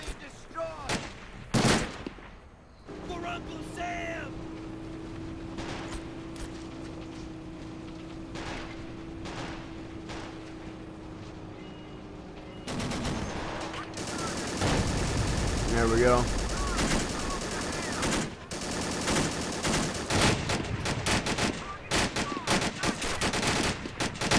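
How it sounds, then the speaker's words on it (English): Battle sounds from the video game Men of War Assault Squad 2 run throughout: repeated gunfire bursts, machine-gun rattle and booms in a dense, continuous mix. A sustained tone hums in the middle section, and the firing grows busier toward the end. "Get that BAR out and start shooting on it."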